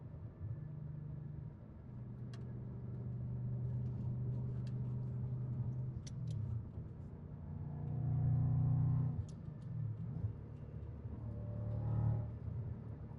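Steady low engine drone from inside a moving 2006 Audi S4 Avant, rising and falling with acceleration, with faint clicks and road rumble.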